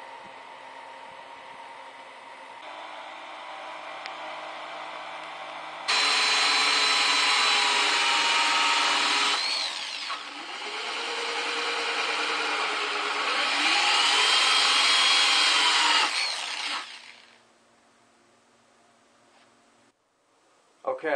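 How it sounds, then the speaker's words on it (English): A power drill bores holes in a 5 gallon plastic bucket, giving loud, sustained whirring bursts across the middle of the stretch, with a fainter motor hum before and a voice speaking at times. "Okay, I've got 2 holes drilled all the way around."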